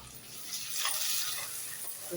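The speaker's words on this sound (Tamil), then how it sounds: "தக்காளியும் நல்லா வதங்கட்டும்" Tomatoes and onions fry in a pan for village-style mutton kuzhambu, a soft, steady sizzle with faint stirring and scraping, heard close and fairly quiet.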